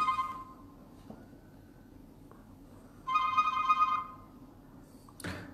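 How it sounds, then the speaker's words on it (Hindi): A mobile phone rings in a quiet room, a short electronic ringtone burst sounding clearly for about a second, with a faint tone earlier and a brief clunk near the end. "आपका फ़ोन आ रहा है शायद।"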